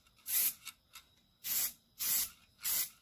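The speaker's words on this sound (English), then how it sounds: "Keeping that bottle moving when I spray." A spray paint can hisses in four short bursts onto old dumbbells, each spray a sharp, close airy hiss separated by brief pauses.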